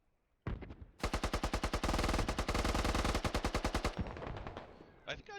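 Rapid automatic gunfire bursts in a close-quarters combined arms video game battle, loud and dense bursts of machine-gun fire following a sudden start, with a brief gap and scattered shots trailing at the end.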